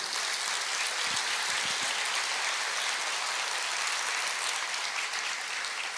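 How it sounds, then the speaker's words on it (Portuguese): A church congregation at a Brazilian Portuguese sermon breaks into applause, a thick, continuous roar of clapping that stays loud and even for the whole stretch. "Pode aplaudir isso."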